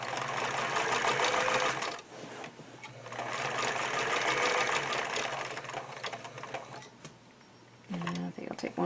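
Sewing machine stitching binding down on a quilt, a steady close whirring hum in two long runs separated by a short pause, with a brief voice near the end.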